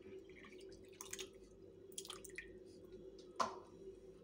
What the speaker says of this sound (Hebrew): כוס וחצי מים